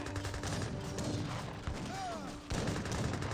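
Gatling guns firing in an Age of Empires 3 battle, a faint continuous crackle of rapid gunfire mixed with other battle noise, with voices talking over it.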